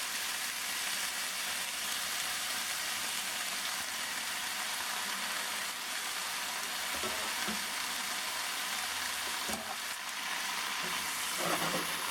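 Chicken, vegetables and drained lo mein noodles being tossed in a hot pan give a steady close sizzle of frying, with soft stirring scrapes and a few sharper clatters near the end; no one speaks.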